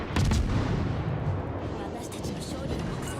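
Destroyer guns firing in the naval game World of Warships, a heavy booming salvo that opens loudly and then rumbles and fades, with someone talking over the gunfire.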